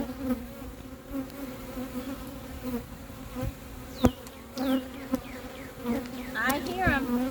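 Dense honeybee buzzing around an open hive during inspection fills the air, many insects droning close by with individual bees zipping past the ear now and then.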